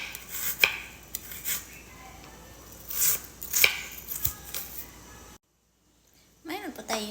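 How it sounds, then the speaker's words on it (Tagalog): A knife chops garlic on a cutting board in a home kitchen, a series of sharp, close taps in irregular clusters with short pauses, followed by a moment of silence and a faint clatter at the end. "ang unang gagawin ay maghiwa tayo ng garlic"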